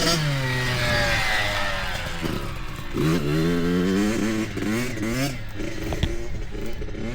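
A Yamaha YZ65 dirt bike ridden through corners in first gear and straights in second, its small two-stroke engine buzzing steadily, with revs climbing and dropping between shifts.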